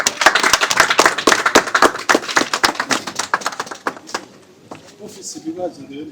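Clapping from a small group, brisk and rhythmic at first, then thinning out and fading, with a few voices murmuring at the end.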